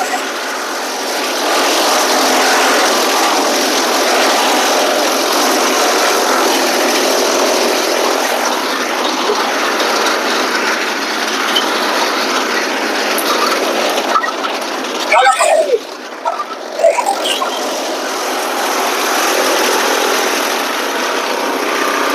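A chaff cutter driven by a 3 HP motor runs in a steady, loud whirring drone, broken by a brief rough, uneven burst near the middle before it settles again.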